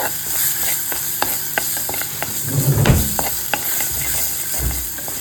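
Kottayam-style red fish curry with tuna being stirred in a pan, loud close sizzling broken by repeated clacks and scrapes of a spoon, with a heavier bubbling stir midway and no talking.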